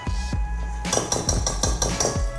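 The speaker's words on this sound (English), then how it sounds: "Now I'm going to combine the dry ingredients with a whisk" Dry baking ingredients for a cornmeal and sour cream cake whisked in a bowl, a quick series of close, rhythmic metallic taps and clinks against the bowl following a brief lull.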